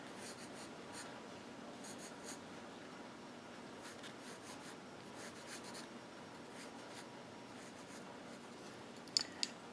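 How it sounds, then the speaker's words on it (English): A pencil draws a portrait on paper, making a faint, steady scratching and rubbing with soft repeated strokes, close and quiet over low room noise, and a couple of small taps at the end. "And this is where your pencil will come in really handy."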